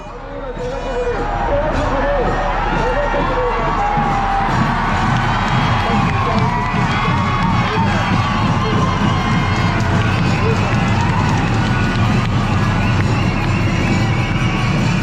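A large outdoor crowd at the Thiruvarur temple chariot festival cheers and shouts continuously, a loud sustained roar with whoops and children's voices over a steady low rumble.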